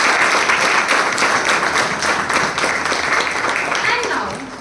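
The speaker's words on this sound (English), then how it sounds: "Let us express our appreciation with a resounding round of applause." Loud, dense audience applause at a Rakhi celebration with the Indian Army in Pithoragarh, a sustained wash of many hands clapping close by that fades slightly toward the end, with voices mixed in.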